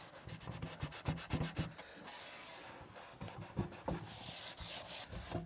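A brush or pad scrubs at blemishes on a teak garden table, quick rhythmic back-and-forth rubbing strokes, close and moderately quiet, with a steadier sustained scrub in the middle.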